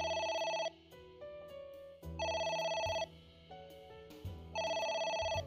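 A telephone rings three times in the video game AI: The Somnium Files, each loud electronic ring burst separated by quieter tonal game music, with no talk over it.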